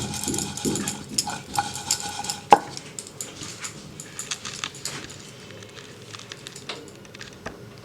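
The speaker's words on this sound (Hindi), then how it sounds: "अभी हम इसको थोड़ा सा मिक्स कर लेंगे, हल्दी और नमक को।" Paneer pieces are mixed with turmeric and salt, making soft repeated scrapes and light taps of a utensil against the dish, close and fairly quiet.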